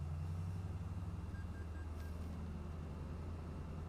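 A steady low truck engine drone in American Truck Simulator with a faint rhythmic pulse, continuous and fairly quiet, with no voices.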